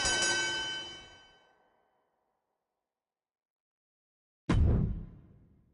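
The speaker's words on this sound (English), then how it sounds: "Ring the bell!" A wrestling ring bell in the video game WWE 2K24 gives two loud metallic clangs. The first rings out and slowly decays, then silence follows before a second sharp strike with a long ringing tail.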